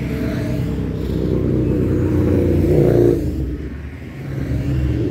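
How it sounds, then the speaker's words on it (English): Motor vehicles pass along a busy Main Street, a continuous low engine rumble swelling to a near, loud peak as one goes by, then easing off and building again. "Main Street always has a lot of motorcycles, so um, I'm walking through Main Street. This is what happens."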